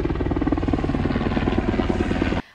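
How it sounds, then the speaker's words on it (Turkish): A helicopter flies over the Amanos mountain foothills near Payas during a military operation, its rotor thumping in a fast, even pulse at a moderate distance before it cuts off abruptly. "Payas ilçesi mevkiinde helikopter hareketliliği artış gösterirken"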